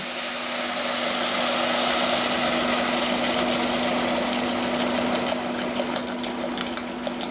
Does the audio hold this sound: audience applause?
no